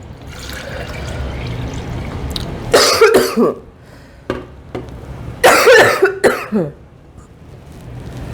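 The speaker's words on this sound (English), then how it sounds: "I had to cough with my mouth open" Two loud, rough coughing fits break through a low steady background noise, each a cluster of raspy bursts up close.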